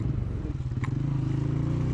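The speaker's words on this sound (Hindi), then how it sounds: "बाइक भी फुल ज़ोर लगा रही है और मैं भी अपना फुल ज़ोर लगा रहा हूँ। और बाइक इस वक्त है पहले गियर में" A motorcycle in first gear labours up a steep mountain road on the way to Kumrat Valley, its low engine drone loud, steady and close throughout.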